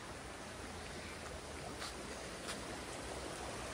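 Water runs into a small lake in a village in the Araku Valley, a faint, continuous rushing hiss with no voices over it.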